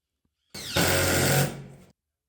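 A power driver whirs as it drives a tack screw into the top of a metal roof panel, one short, steady burst of about a second and a half that winds down at the end, close and alone with no talk.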